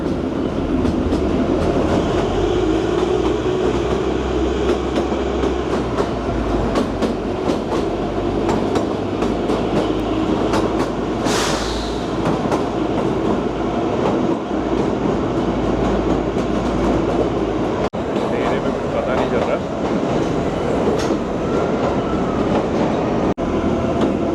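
Kalka-Shimla heritage toy train rolling through the long Barog tunnel, a continuous loud rumble of wheels and carriages with clickety-clack beats and a brief squeal midway.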